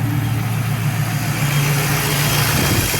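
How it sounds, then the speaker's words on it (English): The engine of a 1987 Chevrolet Blazer idles at a raised speed in diagnostic mode, a close, loud, steady hum with no variation throughout. "Right now it's in diagnostic mode, so the idle is up a little higher"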